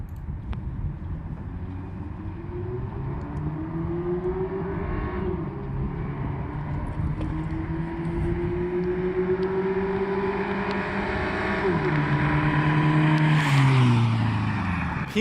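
A PT Cruiser races across a parking lot, its engine note climbing and shifting in pitch as it builds speed toward highway pace, with steady road and wind roar and no voices.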